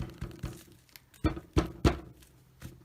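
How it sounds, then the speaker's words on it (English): Three loud, sharp thumps of a hand banging on a table while cutting scrap fabric for pocket purses, spaced about a third of a second apart, with quieter knocks before and after. "Oops, I shouldn't bang the table."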